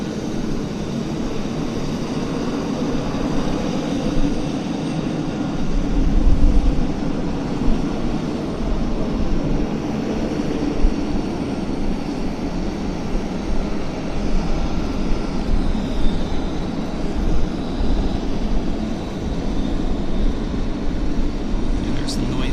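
A heavy jet departs Vancouver Airport, its broad sustained roar rolling on at a distance and swelling briefly partway through, mixed with gusty wind noise.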